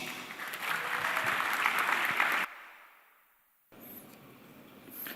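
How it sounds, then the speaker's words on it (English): An audience at a youth summit claps to welcome a co-founder and board member onto the stage, a full sustained round of applause that cuts off abruptly, falls quiet, then resumes at lower volume. "let us welcome with an applause Pu MK Lalgwalnam, co-founder and board member"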